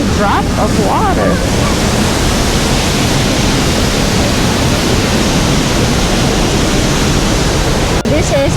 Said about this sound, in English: This is the lower fall, 63 feet.